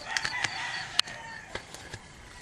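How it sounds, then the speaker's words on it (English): Chickens on a cold early morning give several short clucks and calls, close and moderately loud, with a sharper squawk about midway, set against a faint open-air hiss. "the only noises that you could actually hear are the chickens and that kid over there"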